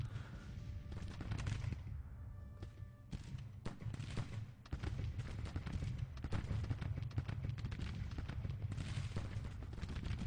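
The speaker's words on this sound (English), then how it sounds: "why don't you just fire your damn guns? They're howitzers." Civil War howitzers firing in the strategy game Grand Tactician: The Civil War, with distant cannon booms and crackling musketry rolling on continuously, a dense, low rumbling barrage with sharp reports scattered throughout.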